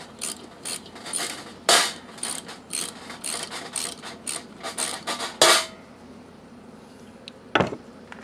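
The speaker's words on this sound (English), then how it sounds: "I'm going to use a socket and a ratchet." An 8mm socket on a ratchet works a part loose from the carburetor of a 2007 Yamaha Grizzly 450, giving a run of close, sharp ratcheting clicks in quick bursts, then a pause and one last loud click.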